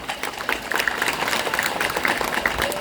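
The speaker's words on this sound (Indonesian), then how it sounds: "Tepuk tangan dulu." Audience applause in a mosque during a Maulid Nabi gathering, a moderately loud wash of many hands clapping steadily for a few seconds with a faint voice underneath.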